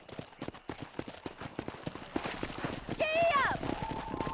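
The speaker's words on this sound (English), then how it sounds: "Control that horse, will ya?" Horse hooves clop in a quick, steady galloping rhythm in the Red Dead Redemption video game, joined by a brief whinny and a voice partway through.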